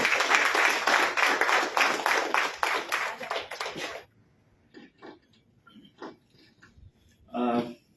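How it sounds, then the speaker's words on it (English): An audience at a workplace debate claps loudly for the next speaker for about four seconds, then stops abruptly, leaving a few faint scattered sounds and a short voice. "Can we give a big, big round of applause?"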